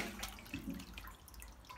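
Hot brewing liquor pumped into a kettle and filling a brewery underback: a faint, continuous rush of running water with soft gurgles and splashes, steady and fairly distant.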